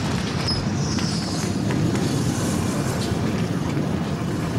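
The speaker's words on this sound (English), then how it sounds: "here comes our train perfectly on time" A passenger train from London pulls into a country station, a steady loud rumble of wheels and carriage noise filling the whole stretch, with a faint high squeal of brakes early on.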